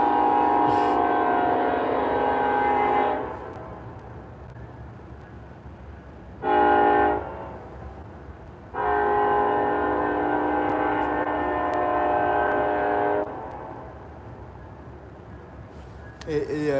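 A passing train sounds its horn in three long blasts, a short one between two longer ones, loud and droning over a constant low rumble of rolling cars. A voice speaks faintly at moments.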